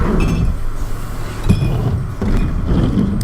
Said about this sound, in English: clean glass set up over here.